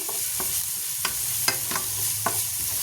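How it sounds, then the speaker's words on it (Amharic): Garlic frying in a pan gives a steady close sizzle, broken by a few soft clicks of stirring, with no voices. "እንደዚህ ነጭ ሽንኩርት ይጥብስ ካለ በኋላ"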